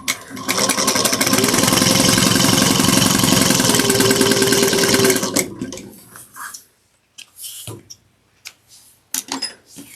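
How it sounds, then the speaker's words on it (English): A sewing machine stitches a seam with back stitches, running in one loud, steady mechanical whir for about five seconds, then stopping, followed by quiet handling clicks and rustles. "We're going to sew this together at 3/8 of an inch, back stitch at the beginning and then at the end."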